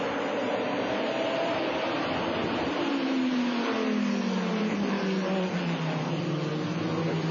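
A GT race car accelerates hard at Watkins Glen during the 1999 FIA GT round, its engine note rising in pitch and holding loud and steady under a constant roar of track noise.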